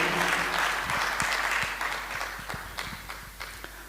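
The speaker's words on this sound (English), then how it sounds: "A round of applause for the CEO." An audience at a corporate wellness day event applauds the company CEO with a steady wash of clapping and scattered sharp individual claps that slowly taper off.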